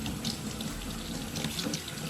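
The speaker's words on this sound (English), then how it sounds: "And then again, you just want to really make sure that you rinse this thoroughly." Water runs steadily from a tap while halo hair extensions are rinsed in a sink, a soft continuous splashing hiss with no voices.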